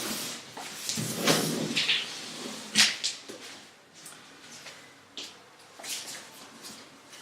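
Cardboard box of an LG 27UD68P monitor being opened, with scattered scraping, rustling and thumping flap sounds at close range, fairly quiet.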